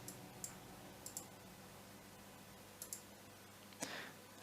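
Faint mouse clicks in a quiet room while a user is created in CloudM's Google admin console: a few sparse, isolated clicks scattered over several seconds, with one slightly louder click near the end.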